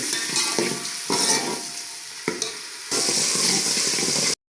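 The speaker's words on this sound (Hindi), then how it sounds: "प्याज को करते हैं हल्का सा ब्राउन।" Onions sizzling and crackling in hot oil as they brown for an aloo matar curry, a steady frying hiss with a few abrupt changes as they are stirred, close and fairly loud.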